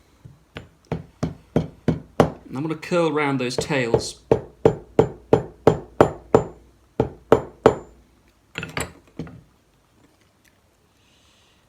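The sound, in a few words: hammering a crimped medieval pin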